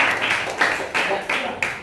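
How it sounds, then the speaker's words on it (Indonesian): A classroom group of students claps for a presenting group, bursts of close applause rising and falling in uneven waves. "beri tepuk tangan yang untuk kelompok"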